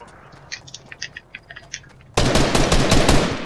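Fortnite match gunfire: a run of faint clicking single shots, then a loud, sustained burst of rapid automatic fire that dominates the rest of the moment.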